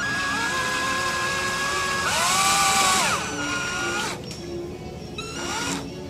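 An electric drill whines at high speed, then its pitch drops and climbs again in short bursts as it drills out the cores of pop rivets that tend to spin.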